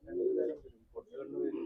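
Pigeons coo inside a loft in Kozhikode, two low throaty coos separated by a short pause, close and clear.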